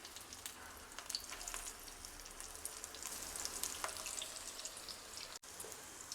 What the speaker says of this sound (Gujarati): તેલ ગરમ થતાં આપણે તૈયાર કરેલી ટીકી સેલો